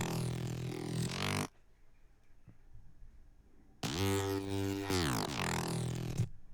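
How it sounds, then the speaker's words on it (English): Two bursts of thick, growling synth bass with dense harmonics and a wobbling, modulated tone, separated by a few seconds of near silence. "Just a nasty neuro bass thing."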